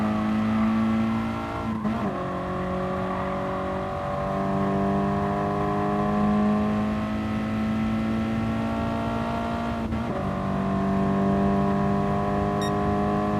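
Race car engine in Gran Turismo Sport during a beginner GT league Sunday Cup race, a loud sustained whine rising steadily through the gears with two sharp upshifts, no voices over it.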